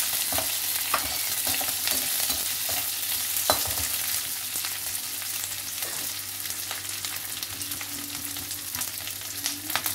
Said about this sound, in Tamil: வெங்காயத்தை போட்டுட்டு இந்த வெங்காயம் வதங்கிறதுக்கு நம்ம வந்து கொஞ்சமாக உப்பு